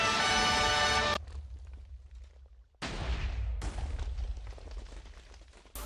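A cannon fires during a Minecraft Overcast Network tournament match, heard as sudden loud bursts of noise that cut off abruptly, with faint crackling in between.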